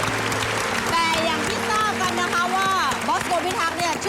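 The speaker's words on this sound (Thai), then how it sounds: "โอ ้โหปรบมือเลยครับแบบนี้" Audience applause at a Thai variety talent show broadcast, a steady wash of clapping running throughout beneath voices and sustained tonal music.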